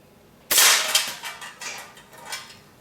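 A single sharp snap from a Metro Grade Goods Hydra slingshot fired with flat bands, loud and close at the start, followed by a brief fading rattle.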